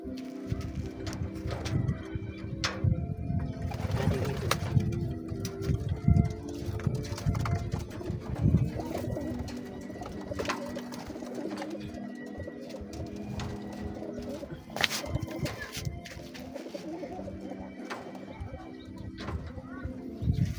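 Low, murmuring pigeon coos repeat steadily, layered over a busy backdrop of rustling, flapping and scattered knocks, close and fairly loud throughout.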